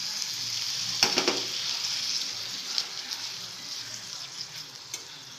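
Tomatoes dropped into a pan of sizzling ginger garlic paste with green chilies and capsicum, close steady frying hiss with a burst of crackle as they land and light stirring scrapes.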